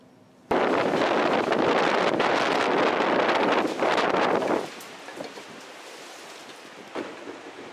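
Strong wind buffeting a microphone outdoors, a loud roaring rush that starts abruptly, holds for about four seconds, then drops to a quieter steady blowing with faint gusts.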